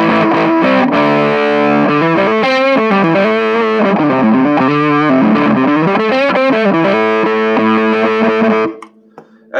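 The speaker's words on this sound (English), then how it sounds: "And then the final stage is distortion." A Greenchild Tribus Drive pedal's distortion stage makes an electric guitar play loud, sustained chords and bends, buzzing and saturated, before cutting off abruptly near the end.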